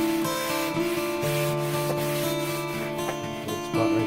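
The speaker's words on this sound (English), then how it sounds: "Little light scuffing." Light scuffing sand of a painted CNC-carved wood sign: close, continuous rubbing and scratching strokes by hand, with a tonal hum behind, no talk.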